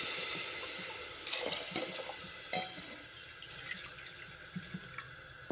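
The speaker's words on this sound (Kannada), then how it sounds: "ಇದರಲ್ಲೇ 4-5 ಬಟ್ಲು ನೀರು ಹಾಕೊತೀನಿ." Water is poured from a vessel into a pot for shahi jeera rice, a continuous hissing stream with a few louder splashes and clinks, fairly close and without talk.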